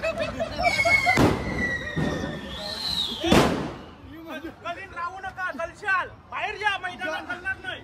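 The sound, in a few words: firecrackers bursting during village festival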